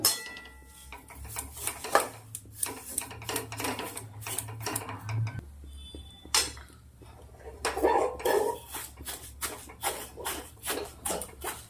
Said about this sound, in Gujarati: સેવને આપણે ઘીના અંદર શેકવાની છે।